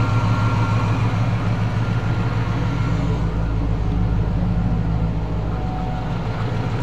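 A car engine idles steadily after a minute of warming up during fuel pressure and running vacuum testing, a loud, even low rumble that runs continuously with no talk.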